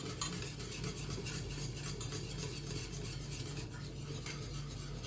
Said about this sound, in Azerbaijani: Arada bərədə qarışdırıram ki dibi tutmasın